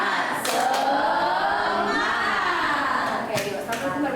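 Group of schoolchildren doing a rhythmic spirit clap together, a dense, steady burst of many hands with sharper accented claps, mixed with kids' voices chanting and talking throughout.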